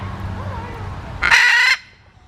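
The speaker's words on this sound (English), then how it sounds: "This is a military macaw." A military macaw in an orchid garden lets out one loud, harsh squawk lasting about half a second, close by, after a stretch of quiet low background hum.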